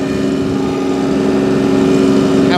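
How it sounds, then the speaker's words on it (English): The Stage 5 diesel engine of an Iseki TLE3410 compact tractor runs at a steady idle: a loud, close, even thrumming with a rhythmic low-end chug and no talking. "This is that engine startup. Isn't that a fabulous sound? That's the new Stage 5 engines."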